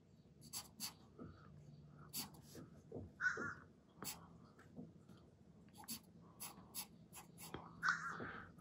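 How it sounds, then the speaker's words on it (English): A crow caws outside a window, several harsh calls at moderate distance, heard over the scratching of pencil on paper during a figure-drawing session. "there's a crow outside my window"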